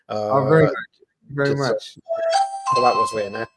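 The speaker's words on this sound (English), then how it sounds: "That's my doorbell going." A doorbell chimes in a home, its tones ringing out partly under a man's speech and lingering briefly.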